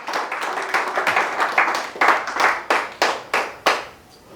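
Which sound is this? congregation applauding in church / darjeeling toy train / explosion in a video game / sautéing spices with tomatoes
congregation applauding in church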